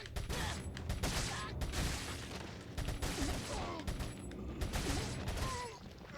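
A TMP submachine gun fires in Resident Evil 4 in rapid, clustered bursts that come through fairly quietly, mixed with mechanical clatter and a few faint voices in between.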